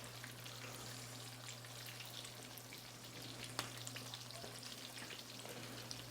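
Wild turkey nuggets frying in a pan with a faint, steady sizzle and occasional small pops, quiet and continuous over a low hum, no talking.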